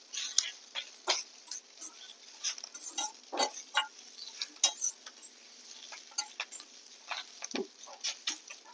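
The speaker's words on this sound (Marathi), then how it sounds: "जे भाजलेलं कांदा खोबरं आहे ते आपण तेलावर जरा परतून घेतोय" Roasted onion and coconut are sautéed in a little oil for a mutton curry. A spatula scrapes and taps the pan in quiet, irregular bursts, with soft sizzling between the strokes.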